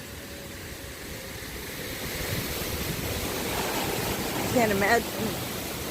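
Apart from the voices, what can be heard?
waterfall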